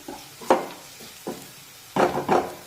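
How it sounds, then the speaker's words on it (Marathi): Chopped onion sautéing in a pan over medium heat for a tiffin-style matki dal dish, with a few distinct stirring scrapes and soft sizzling bursts, close and clear with no talk. "तर आता हा कांदा मध्यम आचेवर छान सोनेरी रंगावर परतून घेऊया"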